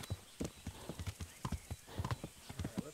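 Horse hooves clip-clopping in the video game Kingdom Come: Deliverance, a quick uneven gallop rhythm of soft thuds, fairly faint, with a brief whinny-like sound mixed in.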